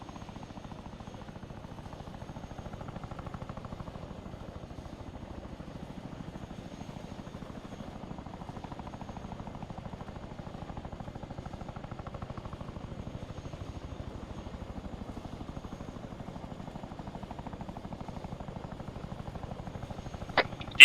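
Helicopter in the ARMA 3 video game, a continuous low rotor thrum held at even volume for a long stretch, steady and unbroken, ending on a short sharp click.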